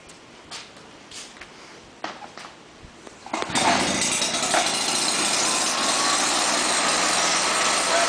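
A homemade hovercraft's small engine starts after a few quiet knocks and handling sounds, then roars into a loud, steady high-pitched drone that continues to the end.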